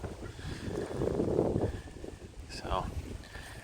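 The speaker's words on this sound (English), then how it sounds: "Right now it's just too windy, and at 53 degrees outside, it gets cold." Gusty wind blows outdoors beside a lake dock on a cold 53-degree day, rumbling and buffeting the microphone in steady surges with a brief higher whoosh near the end.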